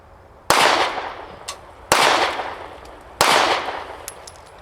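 A Glock 43x pistol fitted with a Taran Tactical spring kit fires three loud, close shots about one and a half seconds apart, each a sharp crack trailing into a brief echo at a shooting range.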